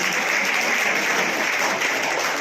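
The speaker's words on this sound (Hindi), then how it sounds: "एक बार बच्चों जोरदार तालियां" Schoolchildren applaud loudly at a prize ceremony in a government senior secondary school, a steady dense clapping that holds evenly for the whole stretch with no voices over it.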